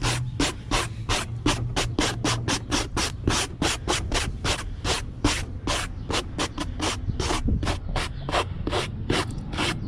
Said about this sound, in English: We're gonna use a wire brush to clean this off.